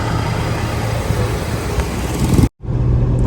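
A Toyota Fortuner engine idles with a steady low rumble, close and continuous, broken by a brief dropout near the end before resuming.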